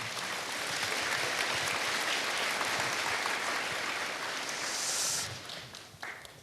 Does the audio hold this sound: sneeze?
no